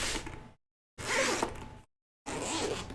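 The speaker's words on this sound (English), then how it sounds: "Am I the only one that absolutely hates the feeling of a zipper?" Three separate zipper pulls open the fabric case packed with a Steam Deck, each a close, raspy ripping burst lasting about half a second to a second, with brief silences between them.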